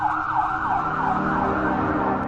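Ambulance siren wailing steadily and loud throughout, its rising and falling tone continuous over a low road rumble, with no voices present.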